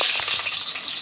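Mustard seeds crackling and spluttering in hot oil, a close, bright, continuous sizzle with quick irregular pops, no voices over it.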